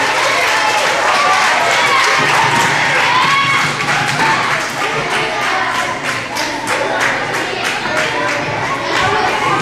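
Children at a school assembly on trustworthiness and good character clap and cheer in a loud, dense burst that fills the room, with scattered shouts and claps over a steady crowd roar.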